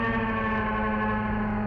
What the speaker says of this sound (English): just giving it a bit of saturation, a bit of grit, a bit of dirt